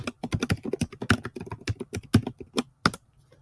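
Someone types an email address on a computer keyboard: a quick, steady run of close, crisp key clicks with brief pauses, no talking.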